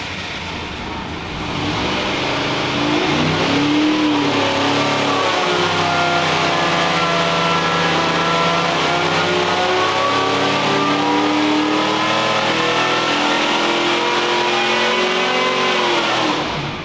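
A supercharged Chevy 400 V8 fitted with a 1071 Roots blower screams on a dynamometer, revving hard and loud with rising and falling engine pitch held for a long continuous pull; faint voices sit underneath.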